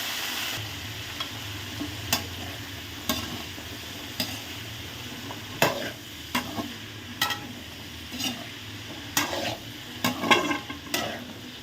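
Vegetables with cumin seeds frying in a pan for a South Indian poriyal, scraped and stirred with a spatula in irregular strokes over a steady sizzle, close by with no talking.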